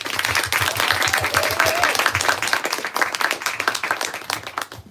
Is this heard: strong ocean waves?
no